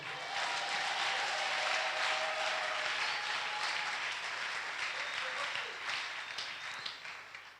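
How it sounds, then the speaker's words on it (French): A church congregation at an evening service applauds and cheers, a broad and sustained roar of clapping with raised voices. It stays loud and even, then gradually thins and fades. "Est-ce que tu peux recevoir mes salutations avec des acclamations?"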